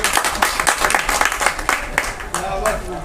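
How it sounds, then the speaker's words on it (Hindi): An audience claps loudly in a quick, steady rhythm of sharp claps for about three seconds, with voices mixed in. "इसी बात पे मारो एक जोरदार ताली"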